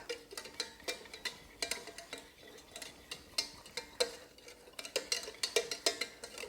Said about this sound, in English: And we'll give that a good mix.